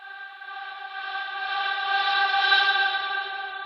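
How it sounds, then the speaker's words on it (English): Reversed vocal effect in a music track, a sustained harmonic tone that swells gradually in loudness toward the end before easing slightly, heard alone without other instruments. "we've just got this reverse vocal effect that's going into the next 8 bars, which sounds like this."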